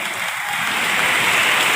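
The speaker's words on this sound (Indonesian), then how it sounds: "Tepuk tangan dulu." An audience at a PDI Perjuangan party meeting in Tangerang Selatan claps, a dense, loud, steady wash of applause that swells slightly toward the end.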